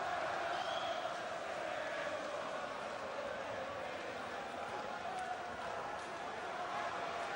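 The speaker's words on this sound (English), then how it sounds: "The chants in the background are for Tony Bellew" Boxing arena crowd chanting in support of Tony Bellew, a dense roar of many voices at a distance, continuous and steady throughout.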